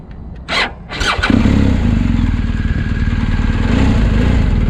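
A 2020 BMW R 1250 GS Adventure HP boxer-twin motorcycle cranks with two short starter bursts, then catches and settles into a steady, throaty idle. It sounds close and fairly loud, with no talking over it.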